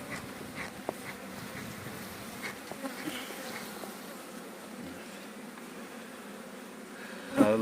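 Honeybees buzz around an open beehive during hive maintenance, a steady droning swarm with individual bees passing close by and brief louder buzzes, no talk.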